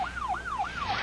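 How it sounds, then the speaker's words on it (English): A police car siren wails in a fast rising-and-falling yelp, three clear sweeps in about a second, fairly faint and heard alone with no talk. "the siren, and they just paid no attention to it."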